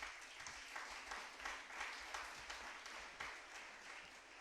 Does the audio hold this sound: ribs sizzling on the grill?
no